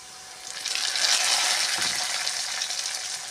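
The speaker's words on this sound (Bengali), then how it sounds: "আলু ভাজা হয়ে গেছে, এবারে মশলাটা দিয়ে দেবো" Spice paste hits potatoes frying in oil, setting off a loud close hiss that swells after the first half second and stays steady to the end, with no one talking.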